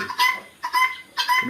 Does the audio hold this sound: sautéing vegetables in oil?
no